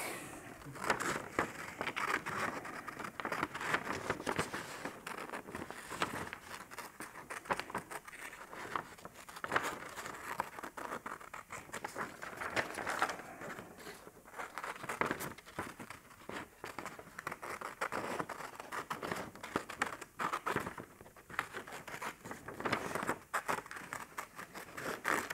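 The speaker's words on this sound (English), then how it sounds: "In this case, I'm just going to use just a plain old pair of scissors." Plain scissors cutting out a paper picture in an artist's studio, giving steady close crinkling, snipping and rustling of paper throughout, with no talk.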